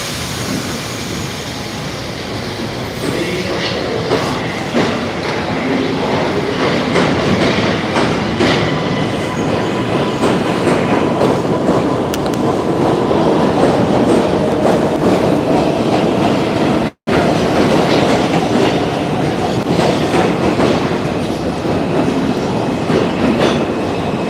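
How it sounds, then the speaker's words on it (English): A Brooklyn-bound New York City subway 4 train rumbles along continuously, loud and close from on board, with clickety-clack wheel rhythm and squealing wheels over a steady roar, broken by one very brief dropout. "This is Brooklyn-bound 4 train."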